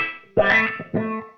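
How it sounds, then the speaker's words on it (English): An electric guitar played through a Zoom 505 auto wah effect sounds two short sweeping notes, close and fairly loud, with a thin, filtered tone. "clearly an auto wah"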